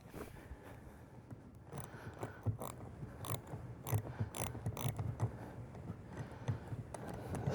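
Ratchet and socket working on a TPMS sensor nut inside a car tire, giving a series of close metallic clicks and clatters with irregular rhythm that grow busier toward the end, with no talk.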